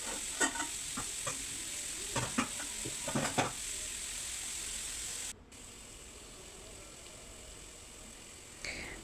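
Chopped green pepper stirred into minced meat in a frying pan, with a steady sizzle and a few scraping stirs at first, then a quieter, even frying hiss after a brief drop.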